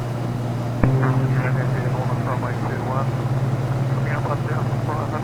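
Carenado Beechcraft radial engine drones steadily in a flight simulator game, a low constant hum with a click near the start, while someone talks over it throughout.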